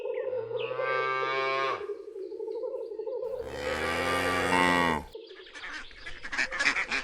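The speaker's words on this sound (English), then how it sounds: "Cow." Cow mooing twice, long drawn-out low calls that rise and swell, the second louder and fuller, followed by a brief scratchy rustle, close by.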